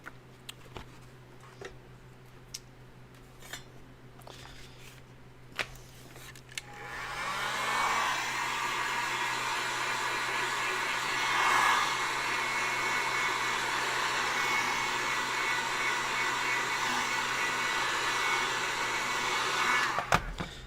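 A heat gun runs steadily for about thirteen seconds, warming mask material to curl it into shape for a film prop, a loud continuous blowing roar that starts abruptly after a quieter stretch of faint ticks and taps.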